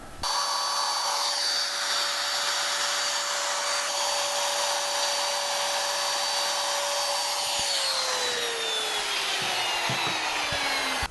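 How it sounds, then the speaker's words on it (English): A power router cuts a mortise in wood for a half mortise lock, a loud, steady high whine with grinding cutter noise held close and continuous, the pitch dropping near the end as it slows. "So now I'm ready to route this all out."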